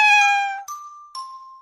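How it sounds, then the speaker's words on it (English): A cartoon gray cat gives one long, bright, tonal meow, followed by two short, clean chime-like tones, all close and clear with no talking. "Little gray cat, just for you."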